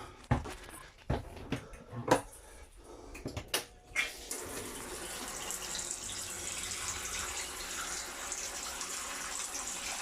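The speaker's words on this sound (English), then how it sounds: "The shower works absolutely brilliantly. It's got good pressure." Shower water running steadily inside a VW Westfalia camper van, with good pressure, preceded by a few knocks and bumps, then a continuous broadband hiss of spray from about four seconds on, fairly close.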